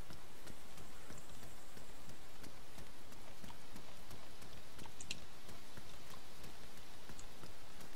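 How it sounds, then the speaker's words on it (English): Steady rain falls throughout an overcast game world, a broad even hiss with scattered close droplet ticks and a few faint clicks, with no talk. "It's raining."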